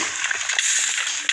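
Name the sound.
water splashing in video game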